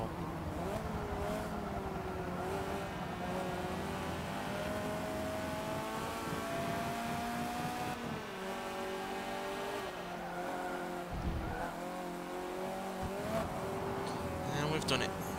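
Hot hatch race cars on the last lap in Forza Motorsport 7, engines droning and revving steadily throughout with shifting pitch and occasional tyre noise, constant and moderately loud.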